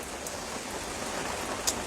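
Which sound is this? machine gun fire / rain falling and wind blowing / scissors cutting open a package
rain falling and wind blowing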